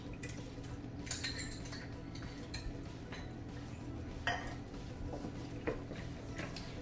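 A spoon scrapes and clinks against a pan while canned diced tomatoes and other ingredients for a Mexican lasagna are stirred, giving irregular taps and scrapes over a low steady kitchen hum.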